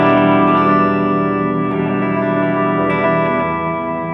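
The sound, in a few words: guitar sustain tail with reverb, TC Electronic Infinite pedal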